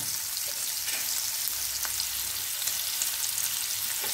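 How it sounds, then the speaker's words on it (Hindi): Sliced onions sizzle steadily in hot oil in a pan for vegetable dabeli, a continuous close hiss with a few soft stirring clicks and no talking. "प्याज को अच्छी तरह से ऐसे थोड़ा सा गुलाबी कर लेंगे, थोड़ा क्रंची रहे तभी अच्छा है।"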